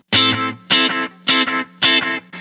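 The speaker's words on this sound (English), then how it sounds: "starting with the MXR Carbon Copy Deluxe" Electric guitar run through an MXR Carbon Copy Deluxe slapback delay, playing four bright, distorted chord stabs at an even pulse, each followed by a short, tight repeat, close and loud with no voices.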